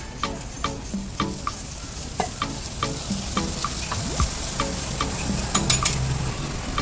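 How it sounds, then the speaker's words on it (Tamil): Chopped onions fry in a little oil on a flat griddle for kothu parotta: a steady close sizzle punctuated by regular sharp taps and scrapes of a metal spatula. "வெட்டி வச்சிருந்த ஆனியனை கல் மேலே போட்டுக்கலாம் கொஞ்சமாக ஆயில் சேர்த்துக்கலாம்"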